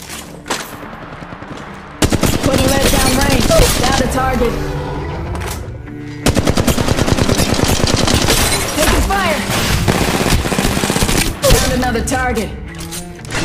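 Rapid automatic weapon fire in an Apex Legends match, long loud bursts of close-range shots with brief pauses between volleys, rattling over the game's ambient noise.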